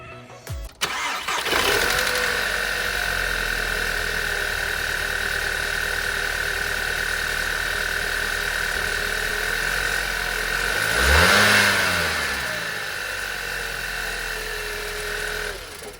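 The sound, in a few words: Skoda engine starting and revving after pod filter install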